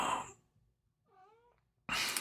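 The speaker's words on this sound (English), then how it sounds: "What do you want, cat?" A cat gives a single soft, rising meow in a quiet gap, with bursts of louder noise just before and after it.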